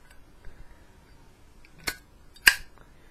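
New Zippo lighter with an unfilled fuel tank, its metal lid giving two sharp metallic clicks about half a second apart over a quiet background, close and crisp with faint handling noise.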